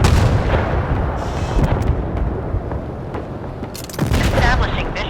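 A naval battle in the game Force of Warships, where a torpedo launches and strikes its target with heavy, rumbling booms and blasts that swell again near the end, and a voice speaks under the noise.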